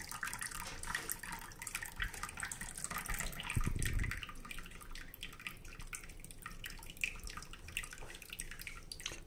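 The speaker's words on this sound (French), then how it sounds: "On entend ce bruit magnifique de l'écoulement du thé, c'est juste énorme." Tea is poured into a glass while making oriental tea, producing a soft, continuous trickling and splashing stream of liquid with a brief fuller gush partway through, heard close but quiet.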